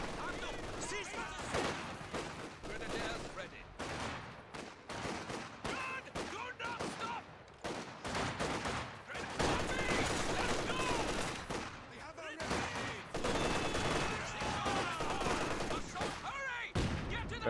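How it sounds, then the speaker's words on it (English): Machine gun bursts and other gunfire in the Company of Heroes 2 strategy game, dense and continuous with rapid rattling volleys over roughly seventeen seconds, mixed with battle noise and voiced unit callouts. "My MG is gonna hit."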